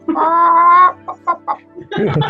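A chicken in a tabletop role-playing game session gives a sustained harmonic squawk followed by several short clucks, then a burst of rougher sound at the end, loud and close with no talk over it.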